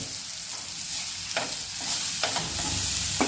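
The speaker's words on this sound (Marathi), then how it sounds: "हे सर्व मसाले व्यवस्थित मिक्स करून घ्यायचे आहेत चांगले" Spices, tomato and a paste of coconut with roasted onion sizzle in a pan. A utensil scrapes and knocks through them in a few quick strokes, up close with no voices.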